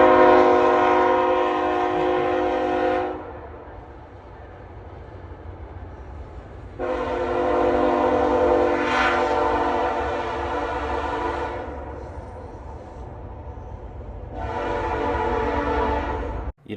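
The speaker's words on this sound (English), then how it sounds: "but I enjoyed the train at night." A freight train rolls past at night in the Canadian wilderness, its horn blaring in three long, loud blasts separated by quieter stretches of low rumbling wheels and rail noise.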